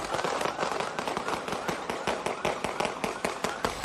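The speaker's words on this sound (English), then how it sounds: "An officer is seen chasing Horton and then the gunfire." Rapid bursts of sharp cracking shots in a dense, rattling volley, loud and continuous throughout, during a police shooting in Miami-Dade.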